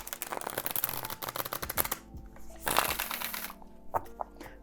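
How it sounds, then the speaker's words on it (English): A tarot card deck being shuffled in quick riffling bursts, a dense rapid flutter for a couple of seconds, then a few shorter snaps and flicks with pauses between. "for me to struggle shuffling with the deck"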